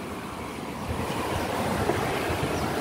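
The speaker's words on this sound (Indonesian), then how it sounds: "Suara air karena kebun kita dekat sungai." Continuous rushing of water from a river running beside a durian orchard, a steady broadband wash with no pauses, close and moderately loud, with no voices over it.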